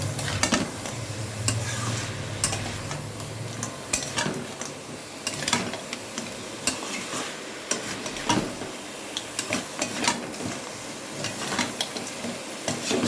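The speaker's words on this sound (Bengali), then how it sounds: "ভালোভাবে আমি কষিয়ে নেব আলু আর কাঁকড়া দিয়ে" Crab pieces and potatoes are sautéed over medium-high flame in a pan, with a continuous sizzle and frequent scraping and clacking of a spatula against the metal as the mixture is stirred.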